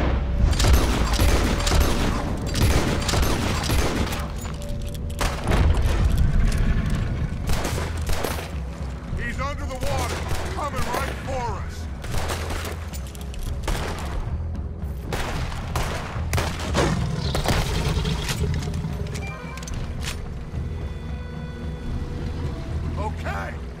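Red Dead Redemption 2 gunfights rattle with dense, repeated shots and heavy booms throughout, a near-constant barrage with character voices shouting between the volleys.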